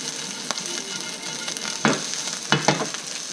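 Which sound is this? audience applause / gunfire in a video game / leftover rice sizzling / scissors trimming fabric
leftover rice sizzling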